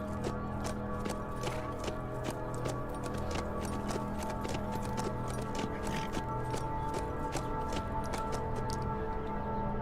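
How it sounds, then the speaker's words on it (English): Horse hooves clip-clopping in the survival game HumanitZ, a fast, steady stream of clicks over a mechanical hum, continuous and close. "Right, if I leave the horse here."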